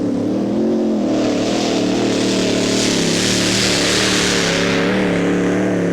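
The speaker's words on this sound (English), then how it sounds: "That's 29-year-old Frank Verboven easing forward on the throttle to his Chevy 481" Chevy 481 engine on a two-wheel pulling vehicle at a 1995 European tractor pulling event in Holland, revving loudly and steadily under throttle, a dense roaring drone with rising and falling pitch throughout.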